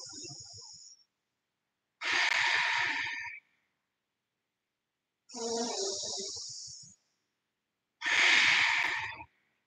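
Deep, audible breaths in a vinyasa yoga class, four separate breathy inhales and exhales spaced a couple of seconds apart, close and hissing, with silence between them.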